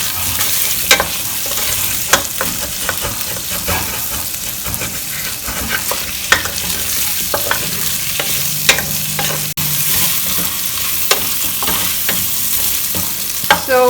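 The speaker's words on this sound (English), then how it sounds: "Just give this a stir." Sliced and whole onions browning in a stew pot for chicken stew, stirred with a utensil: steady close sizzle and frying under irregular scraping clicks and knocks of the spoon against the pot, with no talk.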